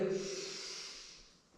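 An exhaled breath during a yoga side bend, a soft airy rush lasting under two seconds that fades out gradually, close and alone with no talking.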